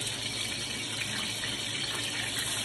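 Water hitting hot oil in a frying pan while cooking ripe plantains, a steady, dense hiss and sizzle running evenly throughout, loud and close with no talking.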